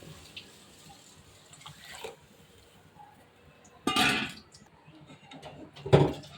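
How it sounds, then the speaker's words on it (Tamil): Tamarind water poured into a simmering fish curry in a home kitchen, with soft liquid splashes and two louder bursts of pouring near the end against a quiet background. "இப்போ இந்த புளி கரைச்சி வச்சுருக்கோம் பாருங்க, புளி தண்ணி, அந்த தண்ணியை ஊற்றி"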